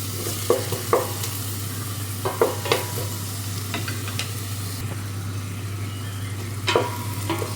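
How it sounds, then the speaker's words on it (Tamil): Onions sizzle and fry steadily in a pan until browning for egg biryani, with occasional sharp clinks and scrapes of a spoon stirring, and a low steady hum underneath. "போட்டுட்டு அப்படி கொஞ்சம் ப்ரௌன் கலராக வரைக்கும் தாளிக்கிறோம்."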